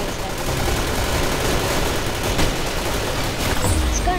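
Rapid, continuous gunfire from a 100-round gun in the Roblox Arsenal video game, a dense unbroken stream of shots with faint voices beneath.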